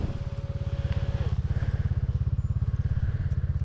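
Enduro motorcycles on a trail ride throb with a steady, pulsing engine drone close by, loud and continuous, running alone without any talk.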